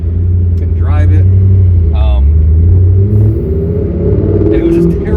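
A Corvette C5 Z06 engine rumbles steadily and loudly with a deep low drone throughout a night drive, while someone talks over it.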